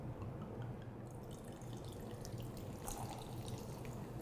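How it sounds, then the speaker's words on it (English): Prosecco pours over ice in a glass for a spritz, a steady faint trickle and fizz running the whole time with a few small splashes and drips near the end. "I know it seems a lot more than 3 ounces that I poured"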